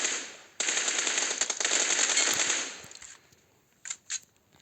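Rapid automatic gunfire in a shooter video game, a dense sustained burst of about two and a half seconds that fades out, followed by two short separate bursts, with no talk.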